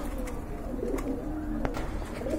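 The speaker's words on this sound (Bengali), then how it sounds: "দেখেন খুবই সুন্দর আর অনেক বড় সাইজের এক জোড়া কবুতর" A pair of large pigeons coo softly at a pigeon market, low murmuring calls repeating over a steady background of other birds and market ambience.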